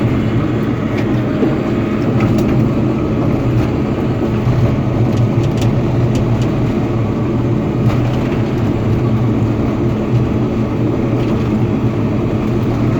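Caterpillar D4 bulldozer engine running with its idle raised while the blade back-drags dirt, a steady loud diesel drone with continuous low rumble and occasional faint clanks, no voices.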